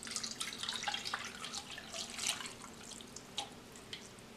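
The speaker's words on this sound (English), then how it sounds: "Now we can pour the coconut mixture through the strainer." Coconut mixture poured through a strainer into a bowl while making coconut rice pudding, a steady close trickle and splash of liquid with small drips, continuous and fairly quiet.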